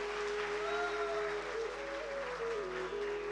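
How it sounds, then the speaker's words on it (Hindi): An audience claps steadily at a Shrimad Bhagwat Katha religious discourse in a palace hall, a dense continuous patter of applause mixed with sustained musical tones. "ताली बहुत धीरे से बजा रहे हो, जरा तेज बताओ।"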